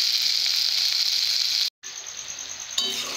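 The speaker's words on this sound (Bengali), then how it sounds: "এরপর আমি জল দেব" Fish masala of small puti fish sizzles loudly and steadily in a pan, then cuts out briefly and returns with a quieter, shifting bubbling as water is poured in, ending in a renewed burst of sizzle.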